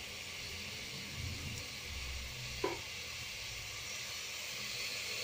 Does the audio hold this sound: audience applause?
no